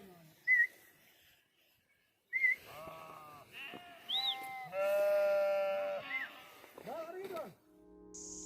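Flock of sheep bleating on a Himalayan mountain trail to Nanda Kund, several wavering bleats from different animals near and far, with gaps of quiet and a person talking between them.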